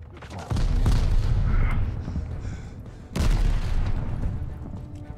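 Grenade blasts in the video game Call of Duty: Vanguard, two heavy booming explosions about two and a half seconds apart, loud and close, each with a rumbling decay and scattered gunfire.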